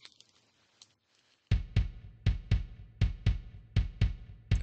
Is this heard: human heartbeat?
yes